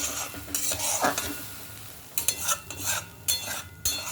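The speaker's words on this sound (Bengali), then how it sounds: "এবার একটু নেড়ে দিই" A spiced paneer curry is stirred in a pan: repeated scraping strokes of a spoon against the metal over a soft background sizzle, close and moderately loud.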